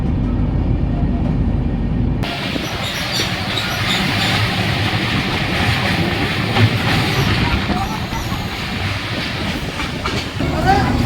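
The Samudra Kanya Express runs from Digha to Puri with a loud, steady rumble and rolling wheel noise that carries on unbroken, swelling as the carriage sound fills in after the first couple of seconds.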